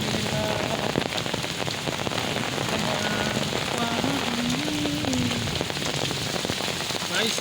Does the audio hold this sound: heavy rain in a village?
yes